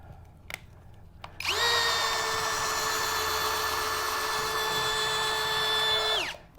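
A SKIL Flip Drill bores a pilot hole in a garage workshop project, its motor whining at a steady high pitch for about five seconds, loud and close, then winding down abruptly, with no talk over it.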